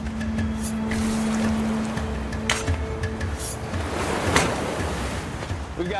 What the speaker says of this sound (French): On a une bonne brise de mer qui s'est levée avec la marée. Il y a de la houle, et du coup les vagues vont encore plus loin.